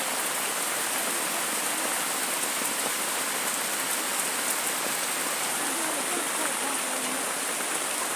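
Heavy rain pours steadily in a dense, even hiss that stays constant and loud throughout.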